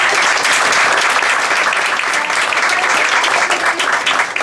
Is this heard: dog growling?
no